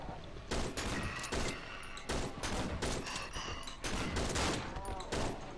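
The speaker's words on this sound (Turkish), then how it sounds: "Uzun adama sıkıyorum." Rapid, loud gunfire from the horror video game Cry of Fear as a player shoots a tall enemy boss, with repeated bursts of shots in close succession throughout.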